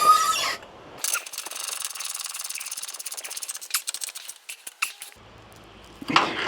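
A hand wrench tightens a fuel pump on a third-generation Cummins diesel, giving a close, rapid rasping ratchet chatter that lasts about four seconds and then stops, with quieter background noise around it.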